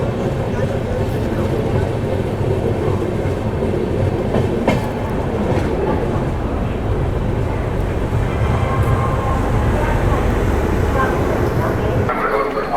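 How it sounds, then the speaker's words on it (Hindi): The Ajmer Shatabdi rolls into Delhi Cantt station, a steady loud rumble and clatter of the carriages heard from on board, with voices talking over the train noise. "और इसी के साथ हमारा अराइवल हो रहा है दिल्ली कैंट स्टेशन पर।"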